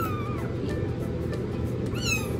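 A young foster kitten meows close up, several short rising and falling cries over a faint background hum, with no talking.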